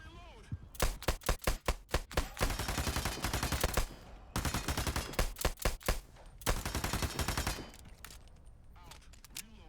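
Rapid automatic gunfire from the video game Radius, arriving in three dense, loud volleys of fast shots with short pauses between bursts.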